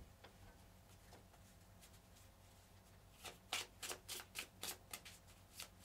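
A deck of board game cards is shuffled on a table, a soft rustle that breaks into a quick run of crisp riffle snaps in the second half, close and alone.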